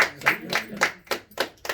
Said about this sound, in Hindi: ताली बजा दीजिए एक बार।